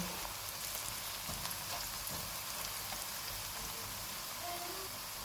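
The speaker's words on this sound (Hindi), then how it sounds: "इनमें 1 टेबल स्पून अदरक और लहसुन का पेस्ट डालेंगे। इसको 2 मिनट तक भूनेंगे।" Ginger garlic paste fries with onions in a pan, a steady dense sizzle like light rain, even and unbroken throughout.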